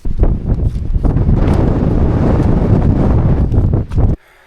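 Strong wind on an open hillside in England's Lake District buffets the microphone in a loud, steady roar, cutting off abruptly near the end.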